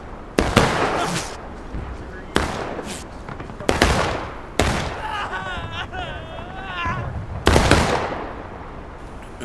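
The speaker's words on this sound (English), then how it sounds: "Are they fucking shooting at us?" Enemy gunfire cracks in a video game battle near a fence line. Sharp, loud shots and short bursts come in at irregular intervals, and voices talk between them.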